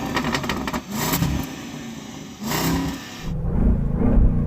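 An English-built V8 car engine is revved in a few sharp bursts, loud and close, with brief dips between pulses and a deeper rumble building near the end.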